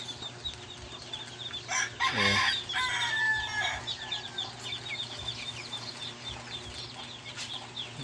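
Broiler chickens in a backyard flock cluck and chatter steadily at moderate distance, with one louder burst of calls in the middle over a low constant background hum.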